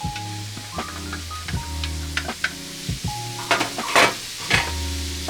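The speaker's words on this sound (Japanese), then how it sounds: "溶けたところに、玉ねぎ入れていきます。" Onions sautéing in melted butter in a frying pan, a soft sizzle broken by repeated utensil scrapes and clinks as they are stirred, close by and fairly quiet, with no talking.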